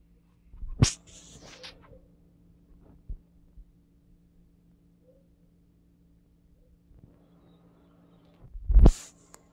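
A person sneezes twice, each a sharp, loud burst, one near the start and one near the end, with a quiet low hum and near silence between them.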